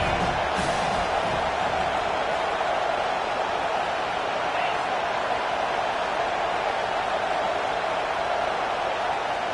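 A stadium crowd roars steadily behind the defense on a big third down in a college football game, a dense continuous wash of cheering with no break.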